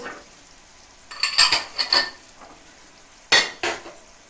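Dried nuts and raisins tossed into hot oil in a pan for sweet matanjan rice, giving soft sizzling with a few sharp clinks of a spoon against the metal pan in short clusters.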